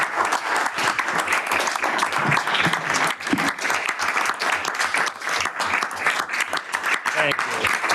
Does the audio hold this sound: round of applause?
yes